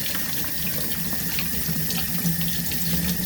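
Tap water runs steadily into a sink while a ball python is bathed, a continuous close hiss and splash with no talking.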